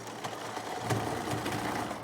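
Sewing machine stitching a narrow zigzag hem on fabric for a small kitchen bag, a steady close-up mechanical whir with rhythmic needle clatter running unbroken throughout.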